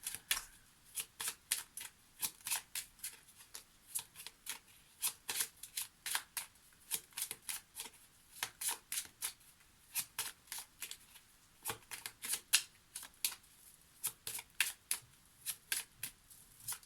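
Lenormand cards being shuffled by hand, a quick series of crisp riffling flutters and soft slaps that repeat steadily, close up and fairly quiet, with no talking.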